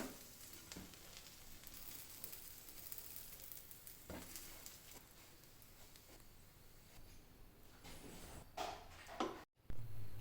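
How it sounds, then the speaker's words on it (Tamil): Cut pav buns toast on a hot pan with a faint, steady low sizzle and occasional soft scrapes and clicks, ending with a brief clatter. "பாவ் பண்ணை இந்த மாதிரி கட் பண்ணி இதை வந்து டோஸ்ட் பண்ணி எடுத்துடலாம்"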